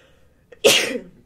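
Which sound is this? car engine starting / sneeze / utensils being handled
sneeze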